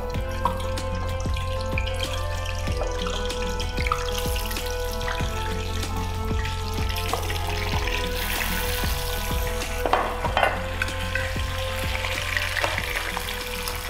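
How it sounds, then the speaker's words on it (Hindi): Chicken pakoras frying in hot oil, a steady close bubbling sizzle with scattered pops and spatters running continuously, no talk over it. "सबरोसो के चिकन पकौड़े जो हैं वो हम फ्राई कर रहे हैं एज ए साइड प्लेटर।"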